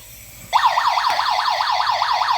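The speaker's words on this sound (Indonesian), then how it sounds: "Ya, bunyi alarmnya." An LPG combustible gas detector, model GD13, bursts into a loud rapid warbling electronic alarm that sweeps up and down repeatedly after a brief quiet moment, close and continuous.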